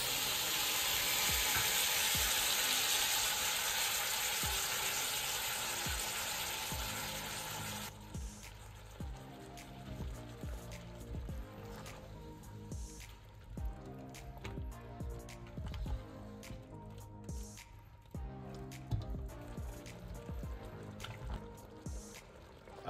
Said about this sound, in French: À présent, j'ajoute mon lait de coco.